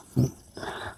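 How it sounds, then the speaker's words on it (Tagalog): A dog gives a short, close growl or whimper, then a softer drawn-out whine, with no talk over it. "Yan yung aso mo."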